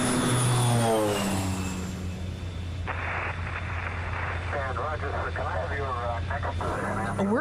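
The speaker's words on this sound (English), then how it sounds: "A workhorse bush plane, like this Turbo Otter, is built for short takeoffs and landings and for handling rough weather." A Turbo Otter bush plane, a rugged workhorse built for short takeoffs and rough weather, drones with a steady low engine hum throughout, while a narrator's voice carries over it.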